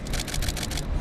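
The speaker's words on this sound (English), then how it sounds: "the clicks, the camera clicks." Camera shutter firing in a rapid burst of about six crisp clicks in one second, photographing planes at night at Sydney Airport, over a low background rumble.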